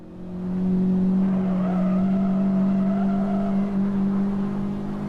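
A Mazda Miata race car on a track gives a steady droning engine tone at a distance, held for several seconds with a faint wavering higher whine, no talk.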